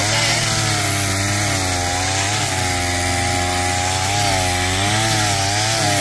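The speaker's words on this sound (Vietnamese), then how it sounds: "video test thực tế bát cước phát cỏ trên máy 34cc, phát sạch chậm gốc rễ của cỏ" A 34cc brush cutter fitted with a nylon trimmer head cuts grass, its small two-stroke engine screaming loud and close at high revs with slight pitch wavering as it bites, no voices.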